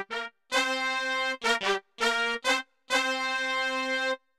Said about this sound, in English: It's preset 939, brass and sax. And it sounds like this.